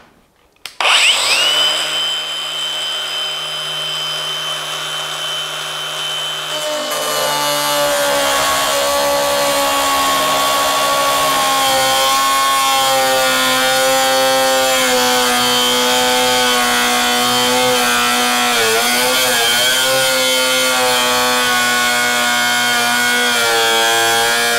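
An AEG BEWS 18-125 BLPX cordless angle grinder spins up and bites into threaded rod, a loud sustained high-pitched whine that shifts to harsh grinding with wavering pitch as the disc cuts.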